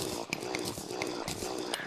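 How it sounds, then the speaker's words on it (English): A mining drill grinds through blocks in the Terraria video game, a steady loud buzzing whir punctuated by regular ticking hits as blocks break. "this drill is crazy"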